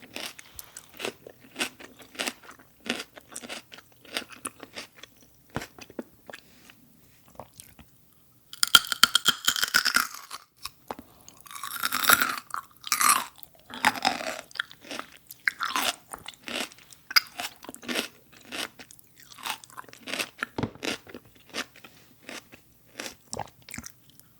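Celery, apple and grapes are eaten up close, with crisp, wet crunches and bites followed by steady chewing in an irregular rhythm, louder bursts in the middle, and no talking.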